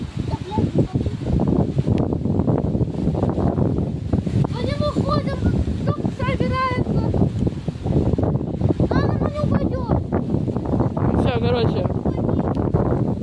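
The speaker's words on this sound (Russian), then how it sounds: "Смотрите, какой ветер." Strong wind roars steadily outdoors as rain begins, a constant loud rumble of gusts buffeting the microphone, with people talking over it throughout.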